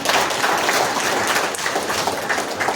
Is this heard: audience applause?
yes